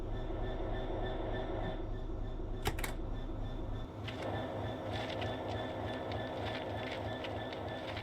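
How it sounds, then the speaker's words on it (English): A train in the Train Sim World 5 video game, a steady rumbling of rolling wagons with a sharp metallic clank partway through, then a continued hum with faint rattling, moderately loud and without speech. "So here's my train."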